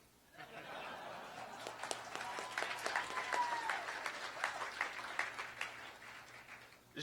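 A dinner crowd at a Rotary roast breaks into applause, a moderately distant, sustained patter of clapping that builds and holds for several seconds, with a little laughter and murmuring mixed in.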